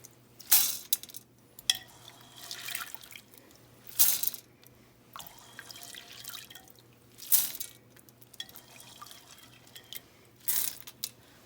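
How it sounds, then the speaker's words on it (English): Soaked pinto beans and their soaking water being poured into a Dutch oven in a home kitchen: faint drips and splashes with a few sharper bursts of sloshing and dribbling spread across the stretch, quiet and close, no talking. "I just want to transfer them to my Dutch oven."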